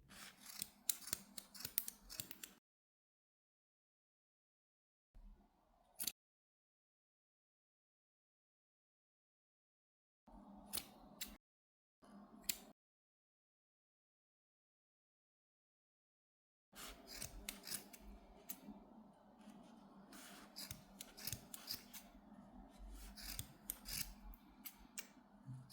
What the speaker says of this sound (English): hold those 2 longer pieces of yarn and cut the yarn loops